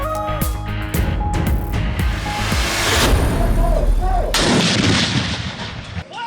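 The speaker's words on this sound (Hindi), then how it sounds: "दिन का आगाज विफाकी दारुल हुकूमत में 31 और चारों सूबाई दारुल हुकूमतों में 21-21 तोपों की सलामी से किया गया।" Cannon salute fired for Pakistan's Independence Day, with 31-gun and 21-gun salutes in the capitals: loud repeated booming blasts over outdoor crowd noise and distant voices.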